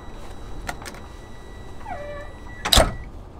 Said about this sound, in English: close the door again